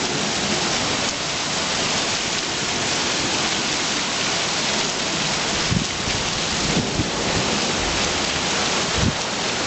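Heavy rainstorm in Provo pouring down steadily, with a dense, constant hiss of rain striking surfaces and occasional low rumbles, loud and continuous with no voices.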